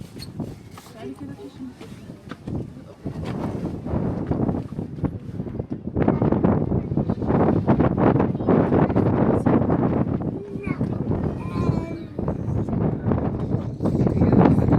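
Strong gusts buffet the microphone with loud low rumbling, while people talk over the wind on the narrow pedestal of the Statue of Liberty in New York City.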